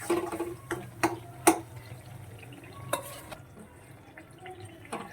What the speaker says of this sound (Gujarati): મિક્સ કરી લેશું સારી રીતે.